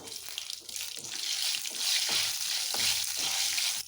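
Cashews fry in hot ghee with mustard seeds, a steady close hiss and crackle that swells and stays loud throughout, with faint stirring underneath and no talk.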